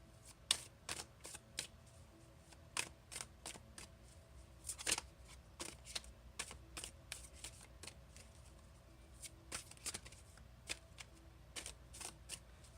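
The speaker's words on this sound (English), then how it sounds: "Sorry, these are a little hard for me to shuffle." Soft riffling and flicking of a new, stiff card deck being shuffled, irregular quick bursts repeating over a quiet background, close by.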